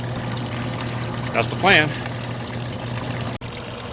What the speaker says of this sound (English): So now I can control the water flow and cut down on the water coming out of here.